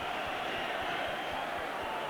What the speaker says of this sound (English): And the King's Hall crowd now are shouting for victory